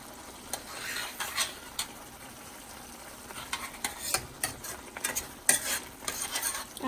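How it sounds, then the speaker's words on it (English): Biryani gravy is stirred in a pan over high heat, with repeated scraping strokes and clinks of the spoon against the metal above a soft background sizzle, close and irregular in rhythm. "I'm going to stir it now."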